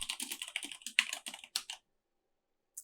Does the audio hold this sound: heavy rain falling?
no